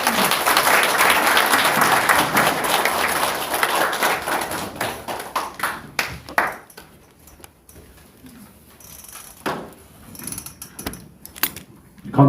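Applause at an urgent meeting of conservative group leaders, a dense round of clapping that gradually thins into scattered claps and small mechanical clicks and taps.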